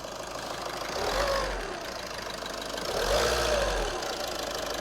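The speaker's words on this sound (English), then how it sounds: "Just run it for like a few seconds. Just give it a few revs." A car engine idles with a steady knocking rumble during an oil change, rising twice into brief revs that swell and fall back, close and loud.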